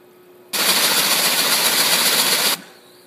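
A Stinger duct cleaner motor runs loud and steady for about two seconds, a dense whirring rattle that starts and stops abruptly against a quiet background.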